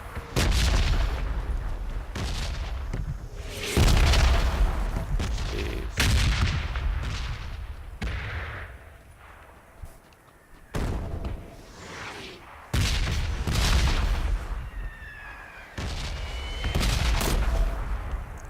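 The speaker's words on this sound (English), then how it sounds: "I could die from the explosions here." Booming explosions and bursts of gunfire in an online shooter, with heavy blasts recurring every second or two, some near and loud, others more distant, and no voices over them.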